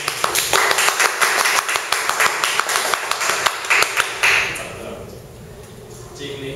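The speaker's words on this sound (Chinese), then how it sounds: "热烈掌声" A small group of people claps in quick, fairly even rhythm, bright close slaps lasting a few seconds before fading into a quieter room with light rustle.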